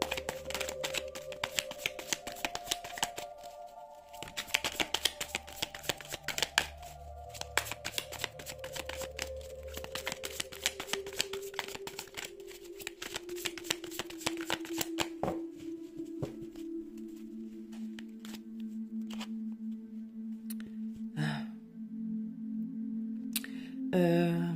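Oracle cards being shuffled by hand, with a steady run of dense papery riffles and snaps over a soft, sustained background tone that drifts downward.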